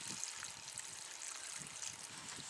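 Water is poured slowly into a hole in the ground, giving a faint, soft, continuous trickle with small splashing bursts.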